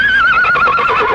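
A horse neighs loudly and close, one sustained high whinny that wavers and trails off, with no other sounds around it.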